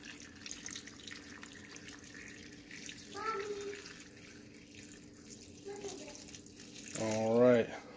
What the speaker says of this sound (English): We're going to go ahead and pour the water in there.